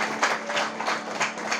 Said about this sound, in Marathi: ही साधी गोष्ट एकदा बुवांसाठी आमच्या जोरदार टाळ्या होऊन जाऊ.